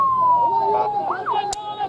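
An ambulance siren sweeps past on a street in earthquake-hit Hatay, its wailing tone rising and falling over steady background noise, moderately loud and fairly close, with a brief sharp sound near the end.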